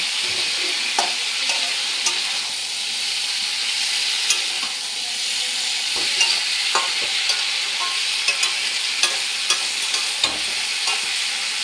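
Radish pieces fry in hot oil with panch phoron five-spice, a steady close sizzle with occasional soft scrapes of stirring and no voices.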